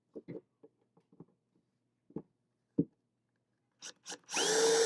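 A power driver fitted with a Torx T25 bit starts up with a short, loud whirring burst at the end, used to dismantle a Sega OutRun arcade cabinet, preceded by scattered soft knocks and clicks in quiet surroundings.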